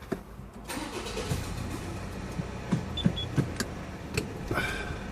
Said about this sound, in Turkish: Aracı bir ileri geri yürüteceğim.